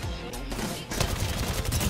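Weapon fire in Apex Legends during a solo match, a short burst of rapid shots packed close together, loud and punchy for under two seconds.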